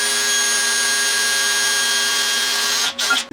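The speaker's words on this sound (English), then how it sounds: "Now I'm going to drill a small hole in there" A power drill whines at a steady high pitch while boring a small hole, holding constant for about three seconds before winding down and stopping abruptly.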